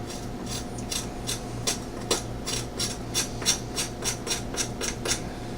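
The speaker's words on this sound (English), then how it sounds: "Scoring the ribs means you're kind of just scraping right here so at the bone" Pork ribs being scored for a rib sandwich, with a tool scraping along the bone: a rapid run of short, rhythmic rasping strokes, close and fairly quiet, with no talking.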